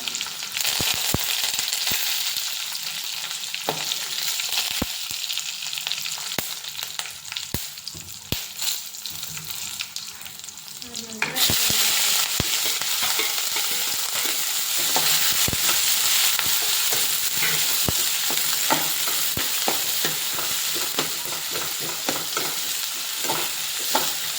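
Garlic sizzles and fries steadily in a pan with oil, a continuous crackling hiss with scattered sharp pops and stirring clicks, growing louder and denser partway through as it cooks.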